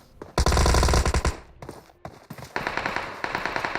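Video game gunfire as players shoot each other, a loud rapid automatic burst of shots followed by further quicker, fainter bursts of firing from a distance.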